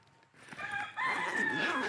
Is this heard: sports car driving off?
no